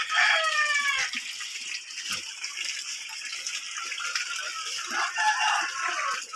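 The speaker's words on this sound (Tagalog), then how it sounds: "Magpakain tayo mamaya ng heritage chicken." Heritage chickens are fed bagaso: scattered clucks and a crow-like call over a constant rattling, rustling bed of feed and movement, with faint sparse knocks throughout.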